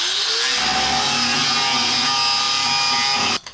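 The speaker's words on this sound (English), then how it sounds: "I'm just going to keep on sanding it" A power sander whirs loudly and continuously against the metal body of a 1978 MGB GT, then cuts off abruptly near the end.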